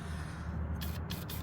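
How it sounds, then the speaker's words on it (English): Short hissing bursts of penetrating oil spray onto rusty bolts under a Honda Prelude, three quick puffs in the second half over a low steady rumble, close and fairly quiet. "Give every spot that I gotta undo a little spray."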